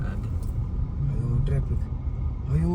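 Pune road traffic flows past as a steady low rumble of cars and buses close by, with faint horns and a voice talking over it.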